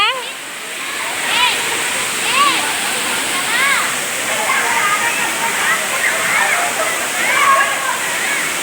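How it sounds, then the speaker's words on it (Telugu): The Sarugudu waterfall, dropping from a great height, roars steadily, loud and close, while people's voices are heard over the rushing water. "చూడండి ఎంత పైనుంచి వస్తుంది వాటర్"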